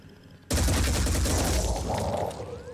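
A sudden loud burst of gunfire in the tactical game Phoenix Point, breaking in after a quiet half second into a dense, sustained rattling roar that slowly tapers off.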